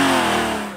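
A BMW M3 E36 with six individual throttle bodies revs its engine, a loud, close, rising mechanical tone that holds steady and then slowly fades, with no talking over it.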